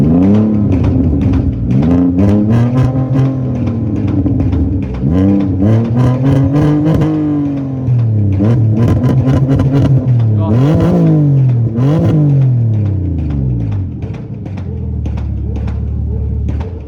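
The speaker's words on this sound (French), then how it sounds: "On va avoir le droit à un joli chant de V6 Musso." A V6 car engine at a drift and run meet revs loudly and repeatedly, its pitch rising and falling in strong sweeps before settling into a steady, throaty idle near the end.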